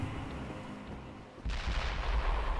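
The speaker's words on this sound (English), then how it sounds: "Another explosion." A sudden loud boom from an explosion in the zombie video game Dead Island breaks in midway over steady game ambience and lingers as a broad rumbling wash.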